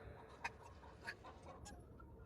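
Disturbed hens cluck and squawk in short agitated bursts inside a coop, faint and somewhat distant over a low background hum.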